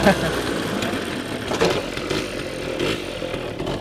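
A modified TVS 50 moped engine runs with a buzzy, uneven rattle, close and moderately loud, swelling a few times as the throttle opens, with someone talking over it.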